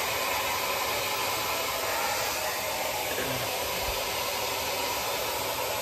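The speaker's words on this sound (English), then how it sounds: "it feels so good to blow dry your hair" Hair dryer blowing steadily while drying hair, a constant airy roar that holds at an even level from start to finish with no talking over it.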